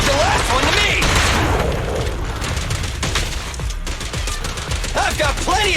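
Rapid gunfire in the action video game Zenless Zone Zero, a dense continuous barrage of sharp shots mixed with impacts, effects and booms, loud and sustained, with character voices calling out over it.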